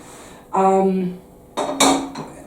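Small metal saucepans and milk pans clatter and clank as they are handled in a home kitchen, two short bursts of ringing knocks close by.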